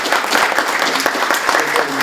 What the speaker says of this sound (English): Let's give them a round of applause for participating.